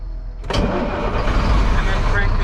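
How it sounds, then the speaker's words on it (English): A Class A truck engine cranks briefly and then fires into a steady, loud idle close by after a moment of quiet, with its parking brakes set and the clutch held down. "And then crank the engine."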